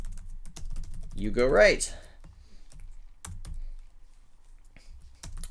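Typing code on a computer keyboard, a scattered run of soft key clicks close by, with someone speaking briefly over the start.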